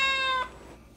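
A single short, clear cat meow, close and fairly loud, that quickly fades into quiet room tone.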